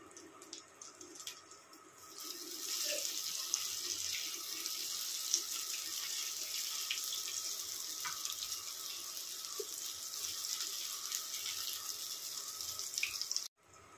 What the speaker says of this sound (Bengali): আস্তে আস্তে কম আঁচে এপিট ওপিট করে বড়াগুলো আমরা ভেজে তুলব